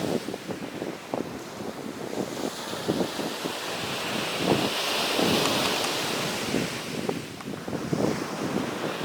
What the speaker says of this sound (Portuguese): Acredito que vocês estão ouvindo o som das águas do mar.